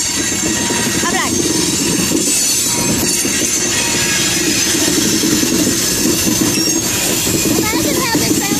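A train rolls past close by with loud, continuous rumbling and rattling wheels and faint squeals, while a person talks excitedly over the noise.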